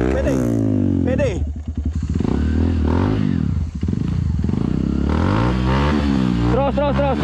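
A motorcycle engine revs hard at full throttle on a dark cross-country ride, its pitch repeatedly rising and falling as it strains. The engine is loud, close and continuous, with clattering under it and voices shouting over it.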